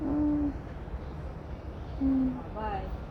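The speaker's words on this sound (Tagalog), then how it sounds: "may mga ibon dito, guys" Two low, drawn-out bird hoots a couple of seconds apart, with a short chirpy call near the end over steady outdoor background noise in Hong Kong.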